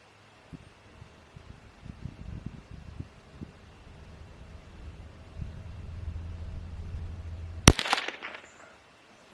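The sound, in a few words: rifle shots from CZ 455 Ultra Lux during accuracy test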